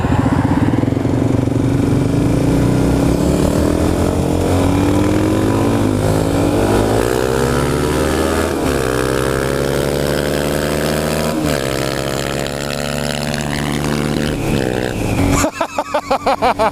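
A 2017 Suzuki DRZ400SM supermoto engine under hard acceleration while riding, loud and close, rising and falling through gear changes at wide-open throttle, with wind noise and no talk.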